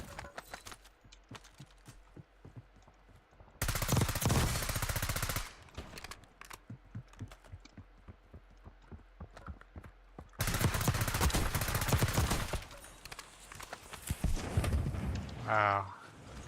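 Bursts of automatic weapon fire in the video game Call of Duty: Warzone, two long dense volleys among scattered single shots and clattering game effects, with a voice talking over the action.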